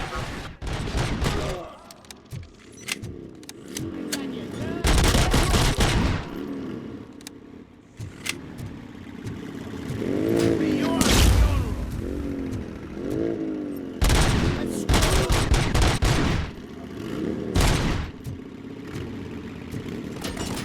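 Gunfire in a street-gang shootout in a video game: loud, close bursts of rapid shots come in several separate volleys, with booms, engine noise and shouting voices in between.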